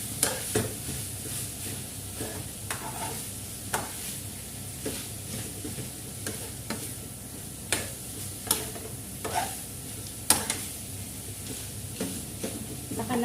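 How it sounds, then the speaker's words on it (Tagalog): Musaka'a, an Arabic dish, frying in a pan while being stirred, with a steady sizzle and hiss and repeated scraping clicks of the utensil against the pan, close and fairly loud, with no talk. "Haluin po natin."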